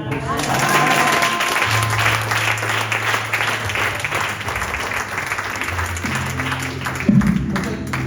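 A church congregation applauds, a full room of steady, continuous clapping with low sustained keyboard chords beneath and a brief louder accent near the end.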